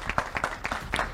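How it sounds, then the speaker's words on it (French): Audience applause at a Mister Universel France 2022 pageant for hotel partners, a short burst of a few uneven claps at moderate distance, fairly quiet and brief. "si vous pouvez les applaudir ce serait vraiment sympa"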